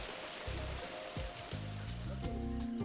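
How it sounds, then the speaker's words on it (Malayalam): Monsoon raindrops patter on the surface of a fish pond on a young farmer's farm, a steady dense hiss with soft tinkling droplets under gentle background music. "ഓളപ്പരപ്പിൽ മഴത്തുള്ളികൾ വീണുകിലുങ്ങുന്ന ഇടവമാസത്തിൽ"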